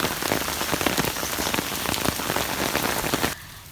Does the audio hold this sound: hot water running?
no